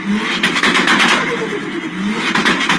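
A tuned car engine revs hard and loud up close, rising and falling in repeated surges with a raspy, aggressive note across the whole stretch, no talk.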